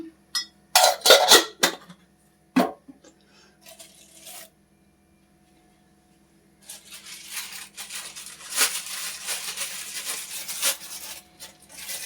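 Mustard seeds dropped into hot oil in a pan for a raw tamarind chutney: a few sharp metal clinks up front, then a steady close sizzle and crackle of popping seeds, with no talk.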